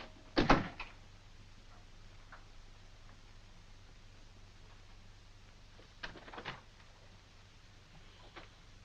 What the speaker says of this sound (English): I said close the door.